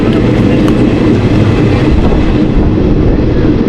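A train on the journey to Katwa rolls along the rails with a loud, steady rumble and a faint clickety-clack, heard close from on board. The noise is continuous and there is no talk.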